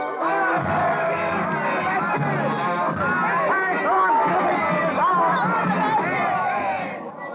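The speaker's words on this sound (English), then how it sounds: "swarm madly in the Rue Saint-Nicaise, their pikes raised high in the air, their voices lifted in a hoarse hymn of hate" An angry revolutionary crowd with raised pikes fills a Paris street, the Rue Saint-Nicaise, in a radio drama. A dense, continuous roar of hoarse shouting and chanting voices holds steady throughout, sounding close and loud.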